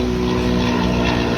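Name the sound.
helicopter flying over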